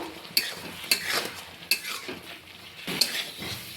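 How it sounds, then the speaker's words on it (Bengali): Vegetables being stir-fried with mustard-poppy paste and spices, a soft low fry under four sharp spatula knocks and scrapes against the pan, spaced unevenly, close and with no talking. "সব কিছুকে মশলার সাথে ভালো করে আমি কষিয়ে নেব।"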